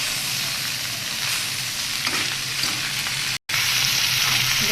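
Broccoli and new potatoes sizzle and fry with turmeric in a pan, a steady close crackle with occasional stirring and a brief cut near the end.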